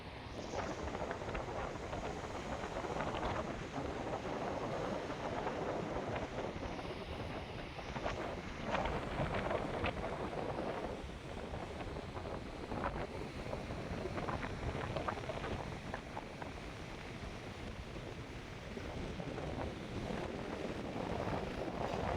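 Strong coastal wind at Golden Beach, a sunrise viewpoint near Tiruchendur, roars steadily and loudly across the microphone for the whole stretch, with a faint wash of surf underneath and nobody speaking.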